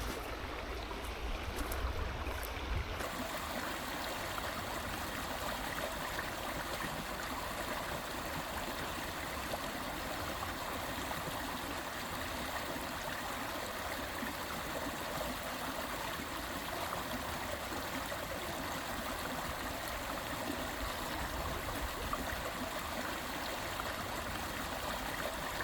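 A creek rushes beneath a small wooden footbridge on a scenic woodland trail, giving a close, steady wash of flowing water that stays even and unbroken throughout, with no voices.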